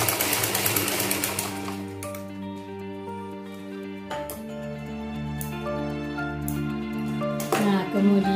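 A sewing machine stitches a 1 cm seam on an A-line skirt, running in steady mechanical bursts close by, mixed with music or tonal background.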